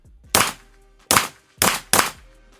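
Four sharp Springfield XD-M Elite pistol shots fired at an outdoor range with 124-grain ammunition, each a loud, cracking pop with a brief decay, spaced unevenly over a few seconds with no talking.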